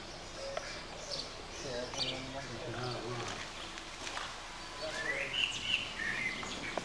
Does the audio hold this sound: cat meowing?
no